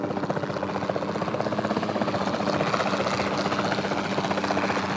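Helicopter flying in a video game, a steady rapid rotor chop with engine drone, moderately quiet and continuous, with no talking.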